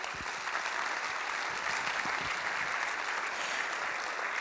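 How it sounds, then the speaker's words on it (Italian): Sustained audience applause fills an auditorium at an architecture award ceremony, dense and steady throughout with no voices over it. "Li accompagniamo tutti con un applauso."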